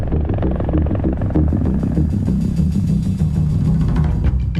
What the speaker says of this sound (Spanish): Pero también lo vemos con el rotor de un helicóptero